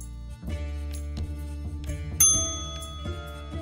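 Bright bell dings ring out several times over a steady synthetic musical drone in the PC game Sandra and Woo in the Cursed Adventure, one sharper chime standing out near the end.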